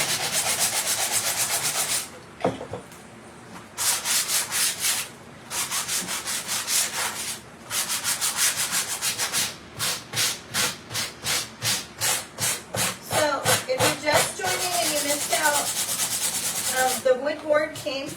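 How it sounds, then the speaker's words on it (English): Sandpaper is rubbed by hand along the edges of a wooden board for a vintage wall sconce, in long bursts of scratchy rasping strokes, then a quicker rhythmic series of back-and-forth rubs, close and loud. "Now I'm going to take a little bit of sandpaper and just rough the edges up a little bit."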